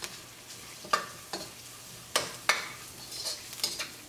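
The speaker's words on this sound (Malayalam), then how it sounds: "സവാളയും ഇഞ്ചിയും വെളുത്തുള്ളിയൊക്കെ നന്നായിട്ടൊന്ന് വഴന്നിട്ടുണ്ട്" Onion, ginger and garlic sauté in oil with turmeric over medium flame, a soft sizzle under a few distinct spatula strokes and clinks against the pan.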